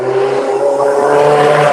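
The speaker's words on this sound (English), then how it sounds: "Sounds like someone had a nice fast car that time." A fast car roars past on a busy street, its engine note holding steady and loud for under two seconds, close by and heard alone without talk.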